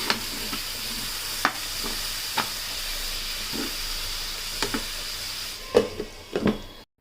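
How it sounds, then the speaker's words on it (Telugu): Sliced tomatoes with onions, green chillies, salt and turmeric fry in a pan for prawn curry, giving a soft steady sizzle with scattered stirring scrapes and clicks, fairly quiet and close. "ఇంకా టమాటాలు అయితే త్వరగానే వేగిపోతాయి"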